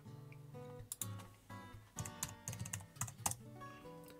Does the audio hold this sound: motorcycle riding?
no